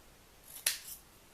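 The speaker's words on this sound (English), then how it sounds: "And cut those in half." A single quick snip of scissors cutting punch art paper in half, close and crisp, in an otherwise quiet room.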